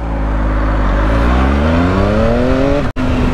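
A Triumph Speed Triple RS motorcycle engine revs hard and close on a track, its pitch climbing steadily before a sudden cut as the rider shifts, loud and alone.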